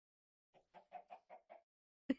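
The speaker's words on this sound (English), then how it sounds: "There's chickens in here!" Chicken clucking in a crafting video game, a quick run of six soft, close clucks in a steady rhythm, then a short pause and one louder, sharper cluck, with no talking.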